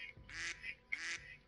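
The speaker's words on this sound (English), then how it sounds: "I got a duck horn. Let's see what the duck horn." Two short nasal quacks from a duck horn item in a video game, evenly spaced about half a second apart, fairly clear with no voices.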